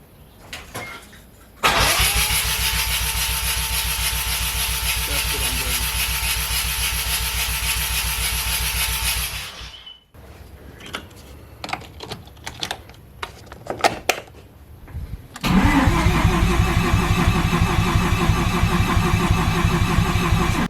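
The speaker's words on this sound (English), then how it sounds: "Car's not starting, and I think I think I know why. It's definitely spark plugs." A turbocharged car with a fitted Holset turbo and fouled spark plugs cranks loudly for several seconds without catching, goes quiet amid clicks and clatter, then cranks again, a rapid rhythmic churning with no voices.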